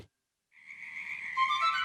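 A single frog croak by a pond, a drawn-out raspy call that starts faint after a moment of silence and swells louder. It ends in a sudden loud thump.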